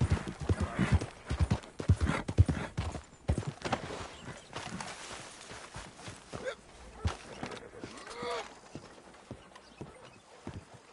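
Horse hooves clip-clopping on the ground in the Red Dead Redemption 2 video game, an irregular run of close hoof strikes with a brief whinny, loud at first then softer and sparser.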